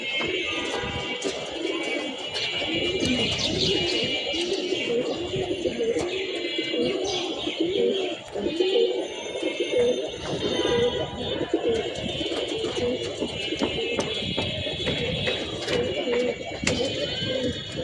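Young pigeon chicks settling in their roost make constant cooing and soft chirping calls, close and layered, with wing flutters and scattered adult coos running through the whole stretch.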